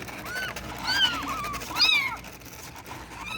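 Abandoned young kittens give two clear, high-pitched meows about a second apart, close by, against a quiet background.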